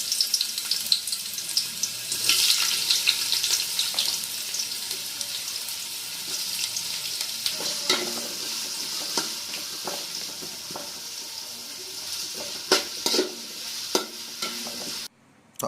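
Two large chopped onions fry in a pot for Kolkata-style potato biryani, with a constant hiss broken by repeated scraping stirs and clinks. The sound cuts off abruptly near the end.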